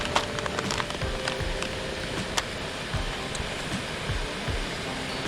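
A Jetboil MicroMo camping stove burner runs with a steady, close roaring hiss throughout, broken by small crackling ticks and light knocks.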